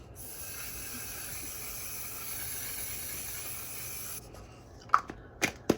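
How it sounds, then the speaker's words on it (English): One Size setting spray misted onto a face, a steady soft hiss lasting about four seconds, close and fairly quiet, followed by a few sharp breaths. "We're gonna wrap up with the One Size setting spray."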